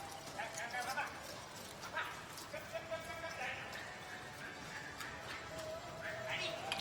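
Horses pulling a carriage in an indoor driving competition trot in quick, irregular hoof beats, with a lively crowd and an excited commentator talking over them.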